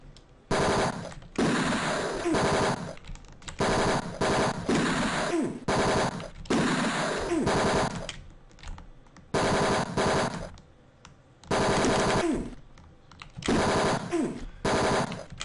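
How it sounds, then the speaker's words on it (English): Loud bursts of automatic gunfire in a firefight in Mean Streets, repeated volleys separated by short silent pauses, with no talking. "It's a firefight!"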